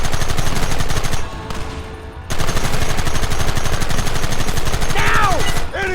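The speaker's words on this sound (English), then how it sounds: "Open fire!" Rapid, dense gunfire fills an intense shootout in the PS5 game Red Dead Redemption, near-continuous shots with a brief lull midway, plus whistling ricochet-like sweeps toward the end.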